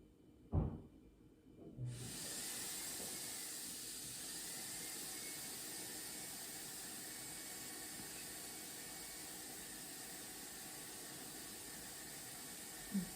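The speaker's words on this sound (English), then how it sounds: "The vacuum cleaner just went on" A household vacuum cleaner switches on after a couple of brief knocks and then runs as a steady, even hiss-like roar that fills the room for the rest of the stretch.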